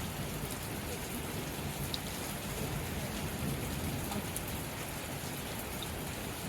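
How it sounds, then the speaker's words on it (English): Steady, dense rain falling outdoors during a storm, a loud, continuous hiss of drops on surfaces with no break and no voices. "I more or less want to make this video so I want to capture this rain."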